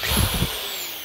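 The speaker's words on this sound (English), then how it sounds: "I used a drill and I got, I don't know, 3/8 inch bit on there." Power drill with a 3/8 inch bit boring a starter hole in rubber for a steel tractor wheel, a loud close whine that runs briefly, then winds down.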